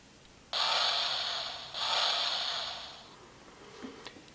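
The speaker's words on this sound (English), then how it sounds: "And that is the sleep mode sound." DX ZenKaiju Gear toy from Kikai Sentai Zenkaiger in sleep mode emits two hissing, breathy electronic bursts, the second trailing off, followed by a couple of faint clicks.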